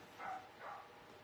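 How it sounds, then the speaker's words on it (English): Two muffled barks from dogs somewhere indoors, faint and distant, spaced about half a second apart. "I don't know what is going on with my dogs, though."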